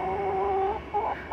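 A hen clucks close by, a few drawn-out tonal calls followed by shorter clucks, with no talking.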